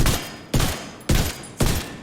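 Gunfire from The Division 2 video game: four loud, sharp shots spaced about half a second apart, each with a short decaying tail, heard alone with no talking.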